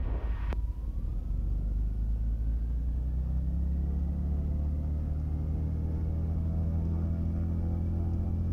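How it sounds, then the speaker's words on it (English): Left engine of a Cessna 310 twin piston aircraft running up to 1700 RPM on the ground, a loud, deep rumbling drone whose pitch climbs steadily and then levels off into a sustained roar. "So what we first do is bring up the left engine to 1700 on the RPM"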